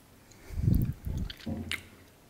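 Mochi rice cake being bitten and chewed up close, three soft, squishy bursts of mouth noise in a slow sequence, fairly quiet with no talking over it.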